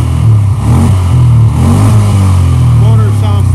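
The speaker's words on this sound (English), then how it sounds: "Motor sounds fantastic." A 2017 Polaris Ranger 570 EFI 4x4 utility vehicle engine runs loud and close, with a steady low drone and slight rises in pitch, continuous throughout.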